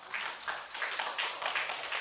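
A church congregation claps in praise to glorify God. The applause is dense and rhythmic, with bursts of hand claps over about two seconds, and no one speaks over it.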